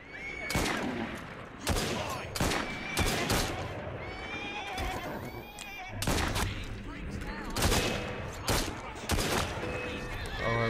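Gunfire in Assassin's Creed Syndicate, in Victorian London: repeated loud bursts of shots in uneven clusters, with horses whinnying and hooves clattering in between and voices shouting during the fight.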